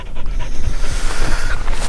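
Hunting dogs pant rapidly and loudly up close, a steady rhythmic huffing that runs through the whole moment with no voices.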